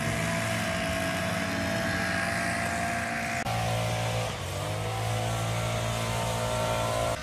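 Several leaf blowers run at once at a campsite, giving a loud, steady, droning engine whine that holds continuously with a brief dip midway and no talk.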